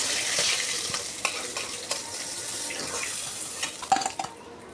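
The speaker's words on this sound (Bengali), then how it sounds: "একটু লাল করে ভাজা হয়ে গেলে তুলে নিচ্ছি।" Carp pieces frying in hot white cooking oil give a close, moderate sizzle with scattered spatters and a few sharp utensil clinks near the end, quiet room, no speech.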